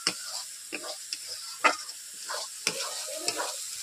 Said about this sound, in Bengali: আমি 3 থেকে 4 মিনিট এইভাবে মশলাগুলোকে কষিয়ে নিয়েছি